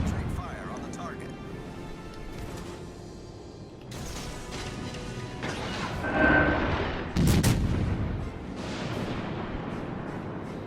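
Naval gunfire in World of Warships Legends comes as several heavy booms and blasts that swell in the middle and later part, over a dense game soundscape with a voice speaking at times.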